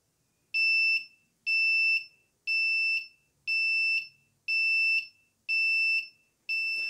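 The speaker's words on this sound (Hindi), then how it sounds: "आपको जो है अलार्म सुनाई देगा और अलार्म कंटिन्यूसली बजता रहेगा" A six-digit seven-segment digital clock alarm beeps in a steady repeating pattern, seven loud high-pitched pulses about one second apart, with no talking.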